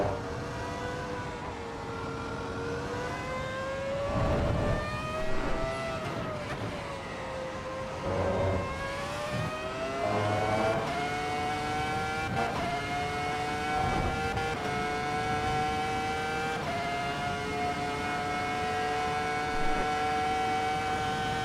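Ferrari F2004 Formula 1 V10 engine in the Assetto Corsa EVO racing game screams at high revs for a whole lap, pitch climbing through gears with brief drops on upshifts and braking, loud and sustained.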